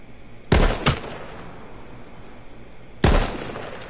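Gunshots from the video game H1Z1 crack out, two close together and a third a few seconds later, each loud and sharp over a quiet background with no talking.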